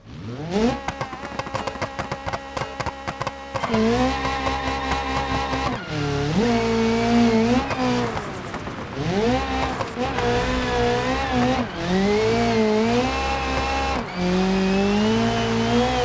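Rally car driven in the video game BeamNG: a loud, close engine revs hard, climbing and dropping in pitch through repeated gear changes, with brief lifts between bursts of acceleration.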